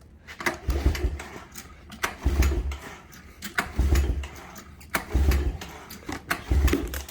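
A 1985 Yamaha YTM225DR three-wheeler being pull-started after sitting for 30 years: five rhythmic cranking bursts, each a rough low chug that rises and dies away without catching, close and fairly loud.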